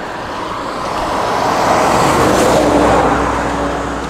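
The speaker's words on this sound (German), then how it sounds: "jetzt kommen zwei Autos" Two cars pass on a quiet Greek road, a rising tyre-and-engine rush that builds from about a second in, peaks near the middle and eases off slightly, heard alone without speech.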